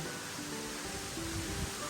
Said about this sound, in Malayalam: ഭയങ്കര വെള്ളച്ചാട്ടത്തിൻ്റെ സൗണ്ടാണ്